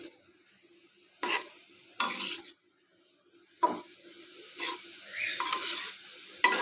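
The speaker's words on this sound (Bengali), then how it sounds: "জালও হাই হিটে দিতে হবে তাই একটু আলতো হাতে নেড়ে নিচ্ছি" Bitter gourd and river prawns are gently stirred in a pan over high heat, several separate scraping strokes of a spatula between quiet pauses, with a soft sizzle underneath and no voices.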